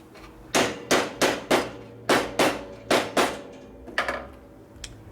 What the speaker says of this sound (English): Plastic hammer